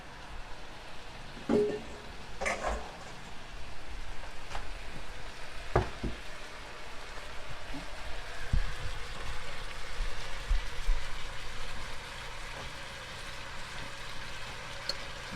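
Fried noodles are stirred in a hot pan, giving a continuous close sizzle with occasional scrapes and knocks of the utensil against the pan, without any talk.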